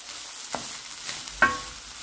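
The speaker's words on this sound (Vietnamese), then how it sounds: "Giờ trộn lên xào tiếp. Rồi, bây giờ mình cứ trộn lên thôi, mình cứ xào thôi" Rice with instant noodles and chopped sausage is stir-fried in a pan: a soft sizzle broken by two distinct scraping strokes about a second apart.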